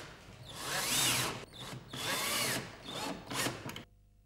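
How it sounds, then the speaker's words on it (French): A power screwdriver drives screws into a kitchen cabinet foot in three close, loud bursts of whirring, each rising and falling, before stopping to near silence. "Vissez."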